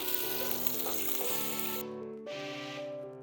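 Garlic sizzles in a hot pan while being fried for nasi goreng, a steady hissing fry that continues throughout, with tonal background music playing over it.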